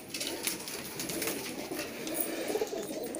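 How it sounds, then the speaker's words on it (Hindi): Desi pigeons coo in a fancier's loft, their soft, low, rolling calls repeating and overlapping against a light background hiss. They sound moderately close, with no talk. "ये देसी कबूतर है उस्ताद जी के पास के"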